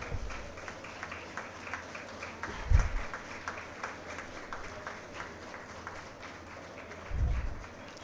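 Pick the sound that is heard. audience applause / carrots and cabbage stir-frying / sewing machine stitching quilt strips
audience applause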